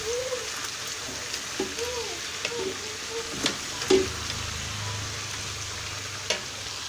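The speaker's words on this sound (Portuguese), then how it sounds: "Estou fritando aqui o toucinho." Pork fat from Janaúba frying in a pan on a wood-burning stove, a steady crackling sizzle with occasional spoon taps and scrapes, close and moderate, with no one talking.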